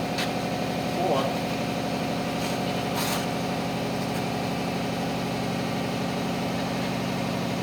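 A vintage Datsun 280Z engine idles steadily with a misfire, a continuous close mechanical rumble that holds level throughout, with a faint voice in the background.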